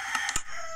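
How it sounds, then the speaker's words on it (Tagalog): Chickens in Minecraft, a quick burst of short clucks and squawks lasting under a second, close and clear with no talk over it. "Maingay yung mga manok."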